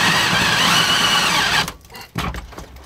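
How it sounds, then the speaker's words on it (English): A power drill grinds hard through metal while propane lines are fitted in a converted school bus kitchen: a loud, steady whine that cuts off, then rough bursts of bit chatter resume. "Like, I'm just gonna have to keep drilling until I get through this."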